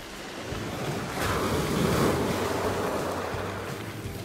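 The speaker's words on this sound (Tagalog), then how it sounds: "Uy, alon." Ocean waves breaking near the shore while mackerel are gathered, a broad wash of surf that swells and recedes with some wind noise on the microphone, moderately close and without talk.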